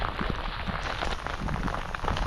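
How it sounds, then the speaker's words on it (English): Pouring rain on open Dartmoor moorland, a dense, hissing downpour with scattered drops pattering close by, steady and fairly loud with no talk. "We've got pouring rain here."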